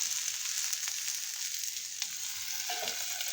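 Thalipeeth sizzling on a hot tawa in oil just after water is sprinkled over it, a steady loud frying hiss that runs throughout, with a few crackles and pops.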